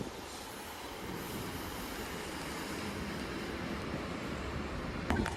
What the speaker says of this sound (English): The train now arriving into platform 5